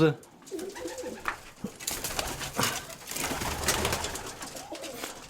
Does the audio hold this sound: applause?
no